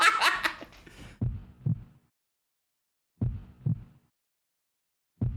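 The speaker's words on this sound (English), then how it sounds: "Doesn't the heartbeat make this that much more tense?" Heartbeat sound effect from the Tomb Raider video game, slow paired low thumps repeating in a lub-dub rhythm with pauses between, following a brief burst of laughter at the start.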